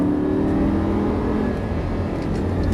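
A Lamborghini Gallardo LP 560-2 engine roars steadily at high revs on the Dreux circuit, a loud, sustained full-throttle drone with no pauses.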